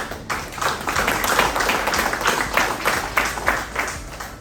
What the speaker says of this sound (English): So kindly keep clapping for him.